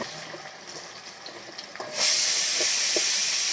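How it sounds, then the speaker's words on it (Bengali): A pressure cooker in a home kitchen starts releasing steam, a loud, steady rushing hiss with a whistling tone that bursts in suddenly after quieter kitchen sounds and holds without a break, with no one talking. "আর এদিকে প্রেসার কুকারে পিটি করতে শুরু করে দিয়েছে"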